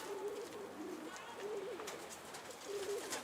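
Pigeons coo in a bird club setting, several soft rolling coos repeating in a loose rhythm at moderate distance over a faint background rustle, with no talking.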